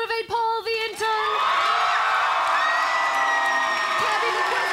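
An indoor event crowd roars and cheers to fire up Paul the intern, with a sustained, loud wash of whoops and shouting that swells after a short announcer's call at the start.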